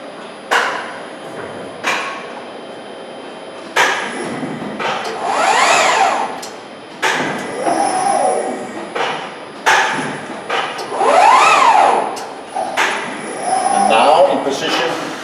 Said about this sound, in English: Now the folding beam moving into the position to do the first down folding.